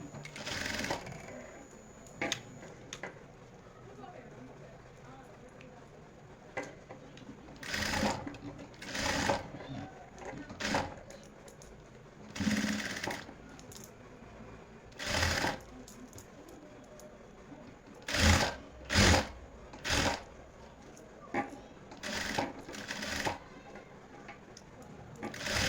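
A sewing machine stitches a woolen kurti in short bursts of rapid mechanical whirring, separated by pauses, with a quiet voice in between.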